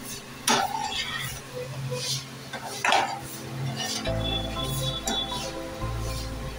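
Potato usal being mixed in a pan with a spoon: clinks and scrapes of metal on the pan in short bursts, followed by a steady low hum from the stove.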